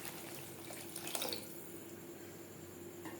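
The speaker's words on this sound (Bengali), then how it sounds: "এবার দিয়ে দেব জল।" Water poured into a pan of fried masala for a hilsa fish curry, a soft steady pouring and splashing with a brief louder gush, faint and close.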